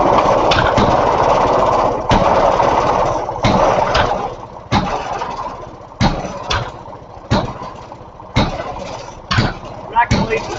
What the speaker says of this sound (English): and is a Maytag washing machine engine.